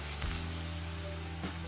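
Chopped ginger and onion fry in a pan for Punjabi dhaba-style jeera aloo, a steady hiss of sizzling with a couple of brief stirring bumps.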